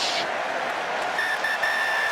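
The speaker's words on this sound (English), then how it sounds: "Whistle goes. End of the match" Referee's whistle ending the 2016 Wales vs South Africa rugby match, several short shrill blasts over a roaring stadium crowd, with commentary beneath.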